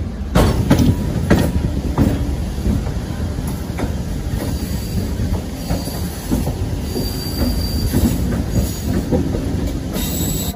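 A Cuttack–Bhadrak MEMU train comes in with loud continuous rumbling, repeated wheel clacks and a thin high squeal from the wheels throughout.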